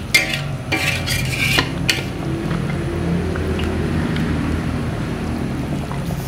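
Large chicken pieces for Sukabumi-style grilled chicken are turned in a cooking pan. A few sharp utensil clanks come first, followed by a steady low frying and bubbling texture.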